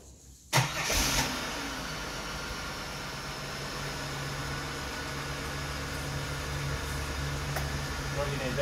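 A Holden VX Calais engine cranks and catches with a sudden burst, then settles into a steady low idle that runs on; a voice speaks briefly.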